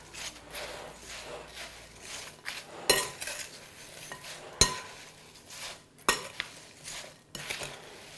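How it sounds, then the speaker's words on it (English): Apple strudel filling with lemon juice and cinnamon being stirred in a bowl, giving soft, wet, close scraping and a few sharp clinks of utensil against dish, with no talking. "Just give this a little stir."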